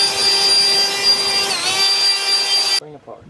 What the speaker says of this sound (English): I'm going to take this little leaf blower here and I'm going to get all this crap off of the